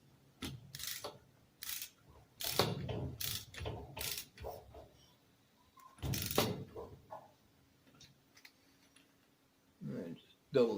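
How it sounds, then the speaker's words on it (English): A torque wrench ratchet clicks in quick, sharp, close-up bursts during golf cart engine reassembly, with short pauses between runs of clicks. "Double check my torque wrench."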